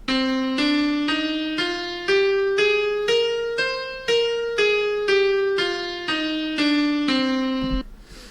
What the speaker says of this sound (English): Okay, so that's the natural minor scale.